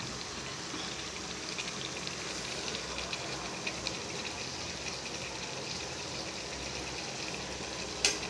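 Tomato egg curry simmering in a pot, a soft steady bubbling and hiss that runs throughout at low level with no talk.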